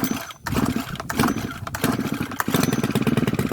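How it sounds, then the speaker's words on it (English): Stihl FS111RX 4-stroke string trimmer engine starting without choke, with a pull-start rattle and then a close, loud, rapidly pulsing idle. "Now, we'll fire this up. I don't think we're going to need any choke."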